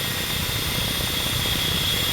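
Ka-50 Black Shark attack helicopter in the DCS flight simulator, its turbine engine and rotor giving a steady, loud drone with a high whine on top, unbroken and without voices.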